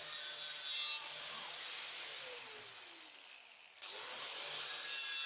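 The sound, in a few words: wire brush on an angle grinder removing rust from car bonnet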